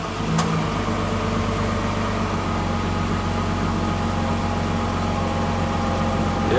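A 2015 Nissan Pathfinder engine idles with the air conditioning running after a cooling fan replacement, giving a steady, even low hum with broadband fan whoosh and no clacking.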